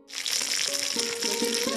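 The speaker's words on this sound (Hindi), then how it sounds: "मछली फ्राई कर रहे हैं" Fish frying in a pan outdoors at a jungle picnic, a loud close hiss of hot oil that bursts up suddenly and holds steady for under two seconds.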